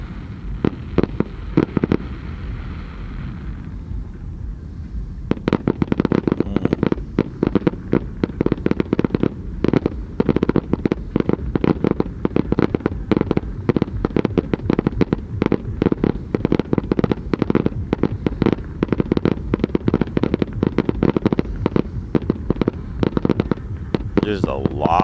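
Fireworks at the Burning Man man burn in 2023, dense rapid crackling bursts and booms firing almost continuously after a quieter start, loud and close, with crowd noise and voices underneath.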